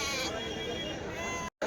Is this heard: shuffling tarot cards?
no